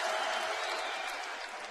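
Sellout crowd of about 6,650 at a college basketball arena for Xavier at Northern Iowa, with fans on their feet cheering and applauding as a steady, dense roar.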